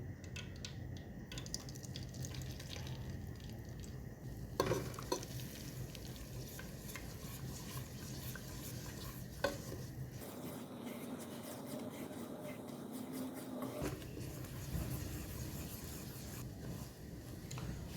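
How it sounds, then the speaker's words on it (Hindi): Semolina stirring and frying in hot oil over a very low flame for egg halwa, a steady soft sizzle with scraping stir strokes running continuously, close and moderately loud with no talking. "इसको ऐसे हिलाता रहना है ताकि सारा ब्राउन हो जाए"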